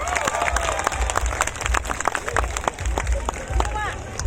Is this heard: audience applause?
yes